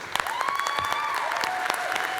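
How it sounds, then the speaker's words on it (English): A brief burst of audience clapping at a cosplay competition, scattered sharp claps over a soft crowd wash, with a sustained whistle-like tone rising above it. "give a big round of applause to everyone here"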